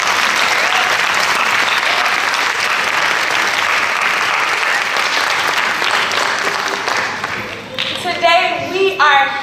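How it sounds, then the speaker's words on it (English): A large audience applauds continuously at a celebration event, dense steady clapping that fades out near the end as a voice begins speaking. "let's go ahead and give a round of applause for the celebration we're about to have"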